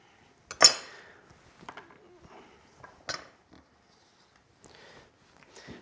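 A knife cuts red onion on a cutting board in a few sharp, sparse taps and slices, separated by quiet gaps, close and fairly faint.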